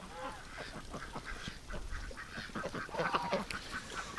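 Muscovy ducks crowd close in a snowy winter yard, giving a string of soft, breathy hisses and low quacking calls at irregular intervals, fairly near and moderately quiet.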